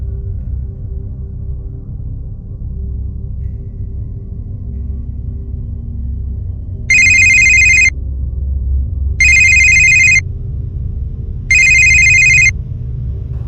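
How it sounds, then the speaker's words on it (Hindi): A telephone rings three times in evenly spaced bursts over a low background rumble, with each ring about a second long and fairly loud. "कुलभूषण को फ़ोन करते हैं"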